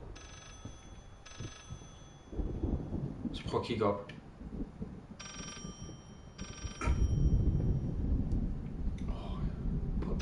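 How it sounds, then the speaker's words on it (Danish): Telephone ringing in the video game Layers of Fear, repeated bursts of an electronic ring that cut in and out, heard under rumbling thunder and someone talking. "nu ringer der en anden telefon"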